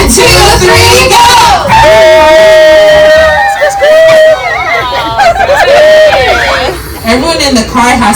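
A carful of people imitate a steam train together, with loud whistle-like hoots and whoo-whoos rising above lively babble, yelps and laughter for several seconds.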